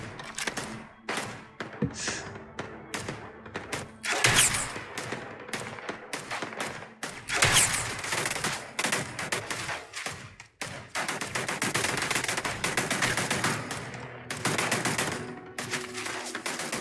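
Rapid bursts of gunfire from a sci-fi shooter, Starfield, crack out repeatedly, some single shots and some quick automatic strings, loud and close over a busy game soundscape.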